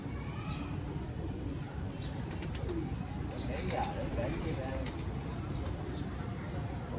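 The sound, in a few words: pigeon cooing on a rooftop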